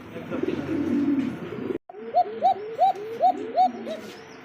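Beauty homer pigeons coo in a run of six or seven rising, rolling calls close by, with a steady low rumble of farm noise before them.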